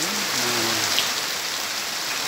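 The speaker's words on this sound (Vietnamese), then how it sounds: "Mưa to lắm các bác ạ." Heavy rain pours down in a steady, loud, close hiss that stays even throughout, with a brief tonal sound near the start.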